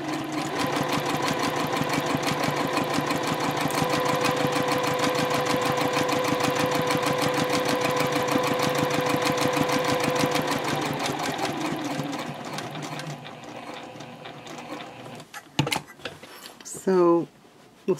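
Sewing machine stitching a bowler bag lining runs steadily and loudly for about twelve seconds with rapid even needle rhythm, then stops, followed by quieter handling sounds and a brief voice.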